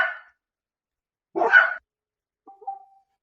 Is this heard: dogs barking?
yes